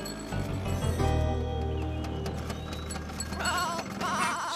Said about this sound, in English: What's that, Mrs. Goat?